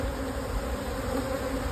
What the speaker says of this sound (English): Upper brood chamber, more or less half full of bees, and they're very busy at that.